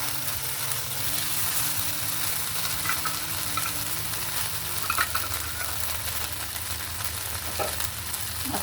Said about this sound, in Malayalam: ഉള്ളി ഇട്ട് നല്ലതായിട്ട് നോക്കി കടുക് പൊട്ടിക്കഴിയുമ്പോൾ ചങ്ങിടുക.